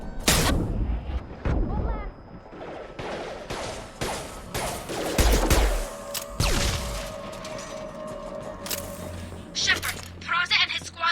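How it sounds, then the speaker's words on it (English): Gunfire rattles in the Mass Effect video game, sharp cracks and bursts of weapon fire mixed with heavy explosions and impacts, recurring across the scene under game dialogue. "Taking heavy fire."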